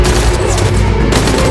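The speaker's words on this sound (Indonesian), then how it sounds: "dan baku tembak pun terjadi." Dense burst of gunfire during a shootout in a tunnel in an action film, loud and continuous with overlapping rapid shots and booms, no voices.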